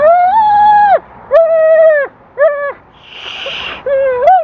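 A dog at a trainer's whimpers in a series of high, tonal whines, four or five drawn-out cries close by with a brief rustle between them.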